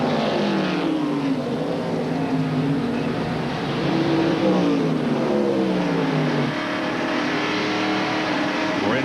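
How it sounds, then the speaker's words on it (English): Onboard a Ford stock car at a 1993 NASCAR Winston Cup road race at Watkins Glen, the engine roars loud and close, rising and falling through gear changes while following other cars. "We're inside Tom Kendall's Family Channel Ford as he is following the cars running up front, right behind Rusty Wallace"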